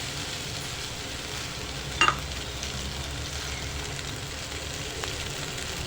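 Okra sizzles steadily in a pan while being stirred, a close, even crackle with one sharp clink of a utensil partway through.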